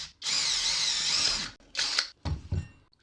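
A power drill bores out a soft aluminium pop rivet by hand without a vise, a steady high whine for over a second, then two shorter bursts as the bit breaks through.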